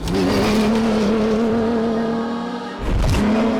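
Ronan Chabot and Gilles Pillot's new Dakar rally car driving hard, a loud, steady engine roar held at high revs, briefly dropping and dipping near the end before surging back up, close and continuous.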